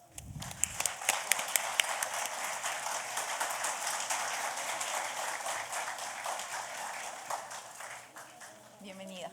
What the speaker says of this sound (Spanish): Por favor, recibámoslas con un fuerte aplauso.